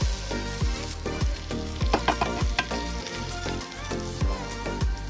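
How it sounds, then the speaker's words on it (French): Garlic scapes sizzle and crackle in a hot pan, with a steady frying hiss broken by repeated soft thumps and scrapes as they are stirred. "on peut rajouter la fleur d'ail. Et on laisse cuire 1 à 2 minutes"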